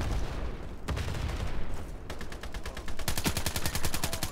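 Gunfire in the shooter Iron Sight: continuous loud automatic fire from several weapons, with sharp single cracks giving way to fast rhythmic bursts near the end, close and dense, with no speech.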